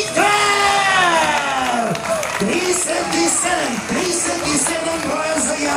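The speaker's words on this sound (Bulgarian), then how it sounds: "искам наистина вече невероятни аплодисменти, т.е. още по-силни" A crowd at an outdoor strongman competition cheers loudly for a competitor, with whoops, yells and sustained roaring over a dense wash of applause, close and continuous throughout.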